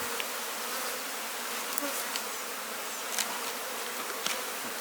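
A honeybee colony hums in a dense, continuous buzz during a hive inspection, close and steady, with individual bees zipping past now and then and no talking.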